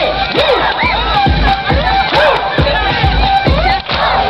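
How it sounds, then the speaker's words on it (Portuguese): A loud crowd of children shouts together at a school, voices rising and falling in repeated excited cheers that fill the whole stretch without pause. "Quero ouvir o gritinho."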